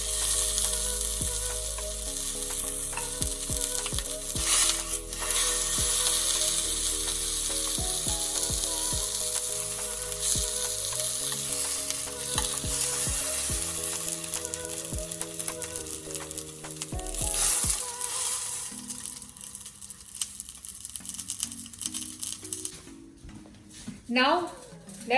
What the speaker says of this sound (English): Preheat the pan with some oil and slightly sear the pork to get a nice color.